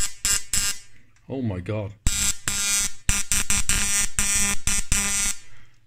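A large Siemens rotating-anode X-ray tube on a high-voltage apparatus buzzes loudly after ignition, in harsh on-off bursts with short gaps, while a person exclaims briefly over it.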